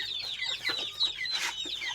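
Young broiler chicks, a batch of 32 newly brought to a fan-equipped rearing shed, give thin, high peeping and clucking calls in a steady overlapping chorus, close by and moderately loud with no talk.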